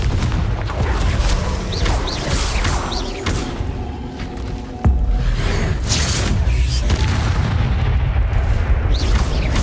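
Confringo and Incendio spell blasts in the video game Hogwarts Legacy, a string of loud booming impacts and fiery bursts over a rumbling combat background, with a sharp blast midway and repeated hits after.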